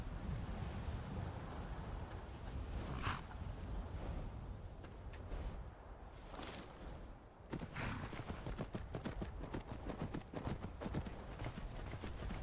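Hooves of a horse clip-clop steadily in Skyrim, a continuous run of close hoofbeats over a wide wash of wind and surf-like outdoor ambience, with no talking.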